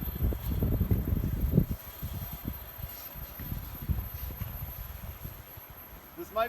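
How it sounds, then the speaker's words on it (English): Strong gusty wind buffets the microphone during a drone flight outdoors in the San Francisco Bay Area, a heavy low rumble that rises and falls over several seconds, loud and close. "Oh my god, a lot of wind."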